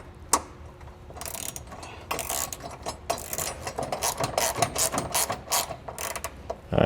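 Ratchet with a 13mm socket snugging nerf bar bolts on a 2012 Chevrolet, quick bursts of rapid close clicking with short pauses between strokes, no talking.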